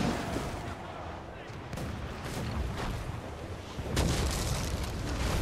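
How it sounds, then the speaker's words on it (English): Cannon fire rumbles through a naval battle in Assassin's Creed IV Black Flag, with dense booming blasts, a heavier volley near the four-second mark, and constant low battle noise filling the background. "Enemy's firing! 50 yards off the wind!"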